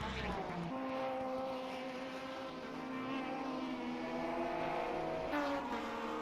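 Porsche race cars at speed during an endurance race, engines droning loudly and continuously with shifting pitch as cars pass, a sudden change in tone near the end.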